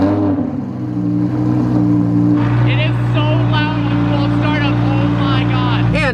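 Loud Lamborghini engine while driving, a steady deep droning roar with strong low harmonics filling the whole stretch, as a person talks over it inside the car.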